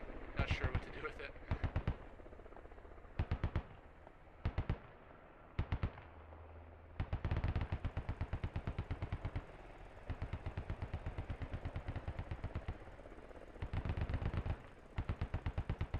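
A DShK Dishka heavy machine gun fires in the video game Squad: short bursts and longer rapid strings of heavy, sharp reports with gaps between them, close and loud, under a faint background of other sounds.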